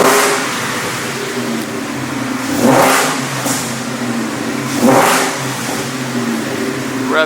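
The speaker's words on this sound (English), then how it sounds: "Car idles like butter." A Fox-body Ford Mustang with a swapped-in 5.0 Coyote V8 runs close by, settling into a smooth idle between two quick throttle blips.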